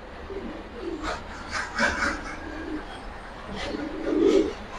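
Female Giribaz pigeons coo in soft, repeated low calls, several overlapping phrases close by over a faint background hum.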